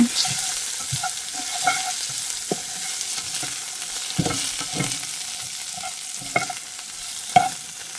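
Food frying in a pan, a steady close sizzle broken by repeated scraping and clinking stirring strokes at irregular intervals.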